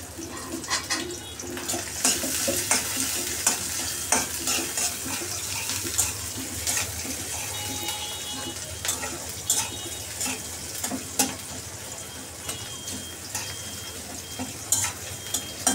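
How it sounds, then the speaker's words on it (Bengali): Cubed onions sizzle and fry in a pan for a bitter gourd (korola) fry, with steady crackle, scattered stirring scrapes and clinks, and a running-water hiss beneath, close and continuous. "এখন আমি পেঁয়াজগুলোকে একটু ব্রাউন কালার করে নেব।"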